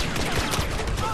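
Rapid blaster pistol fire in Star Wars Battlefront, a dense burst of sharp shots packed into about a second, loud and near with game noise around it.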